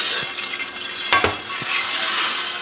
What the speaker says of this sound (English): Now I'm gonna add my couscous